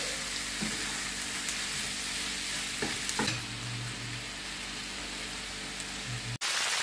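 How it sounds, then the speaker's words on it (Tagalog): 350 grams of chicken wings being stirred for chicken adobo: a steady, rain-like frying sizzle with a few scraping stirs, close and fairly even, cutting off abruptly near the end, no speech. "ilagay natin yung 350 grams na chicken wings at haluin"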